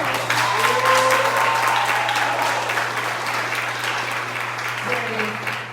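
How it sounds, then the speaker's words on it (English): A crowd applauds at the opening of a press conference and discussion hosted by DaBaby, steady clapping throughout with a low steady hum underneath and faint tonal sounds drifting in. "Round of applause"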